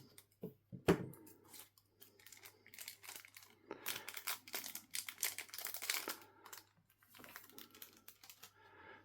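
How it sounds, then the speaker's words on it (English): Close, crisp snipping and crinkling of scissors cutting open plastic trading card bundle packaging, in quick irregular bursts with short pauses between. "I'm just going to grab my scissors and carefully cut it open."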